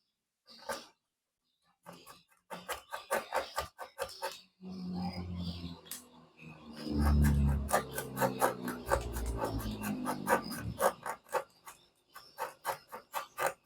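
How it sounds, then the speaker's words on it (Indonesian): A cutter knife shaves the graphite tip of a pencil in a run of short, scraping rasps, close and dry, with brief pauses between strokes and a denser patch of rubbing in the middle. "pensilnya kita, mata pensilnya kita raut-raut ya dengan cutter"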